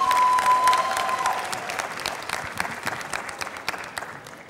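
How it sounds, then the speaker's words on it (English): Audience applause at a Miss Charm Vietnam semifinal swimsuit round, a dense sustained clapping that starts loud and gradually thins and fades toward the end, with a faint crowd murmur beneath. "Give them a round of applause one more time."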